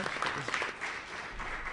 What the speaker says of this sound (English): let's give another big round of applause for our panel